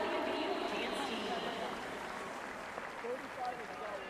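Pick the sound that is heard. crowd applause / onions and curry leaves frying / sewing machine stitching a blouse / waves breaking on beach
crowd applause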